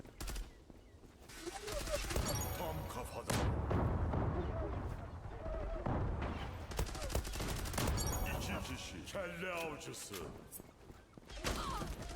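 Rapid bursts of gunfire in the Zula online shooter game, sharp repeated reports clustered into volleys with explosive booms, mixed with excited players talking over the action.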